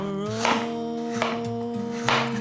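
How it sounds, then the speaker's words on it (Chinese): A knife cutting thin slices of firm lotus root on a board, with a few distinct chops and thuds spaced about half a second apart over a faint background hum, no speech. "把莲藕切片，我切薄一点，因为等一下要切碎，它有点硬，所以要用点力气切。"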